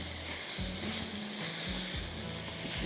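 Sliced onion frying in a pan, a broad continuous sizzle under a low tonal hum, fairly quiet and steady, with no voices.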